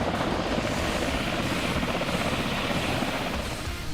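A Mi-17 V5 military transport helicopter, built by Kazan Helicopters, roars steadily and loudly with a dense rotor and engine rumble that stays constant throughout, alone with no voices.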